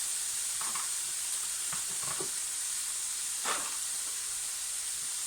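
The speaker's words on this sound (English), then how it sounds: "we're going to add our vegetables all at once. So we've got mushrooms going in there, we've got peppers" Mushrooms, peppers and diced carrots for a bolognaise sauce sizzle gently in a pan: a soft, even hiss throughout, broken by a few brief clattering taps as the vegetables are stirred.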